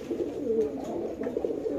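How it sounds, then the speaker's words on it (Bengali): A pigeon, a 2016 Chinese bird kept on a farm, coos softly in low, throaty repeated notes, close by with no talk. "দেখেন কবুতরটা"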